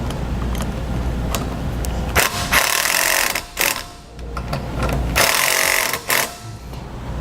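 A power driver sends self-tapping screws into studs while a Blue Ox accessory kit is fitted to a 2016 Ford Taurus. The motor runs in several loud bursts, each stopping abruptly, close by.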